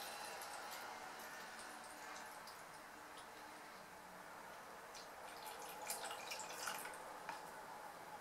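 Water trickles and drips steadily into the plastic reservoir of a Cafissimo mini coffee machine, a continuous close, quiet splashing with a few brighter drips near the end.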